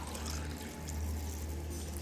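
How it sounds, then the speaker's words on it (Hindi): Strained turmeric water pours back into a container, a steady, close trickle of liquid that runs on without a break for about two seconds, with no voices over it. "छान कर जब हम वापस भरते हैं इसमें"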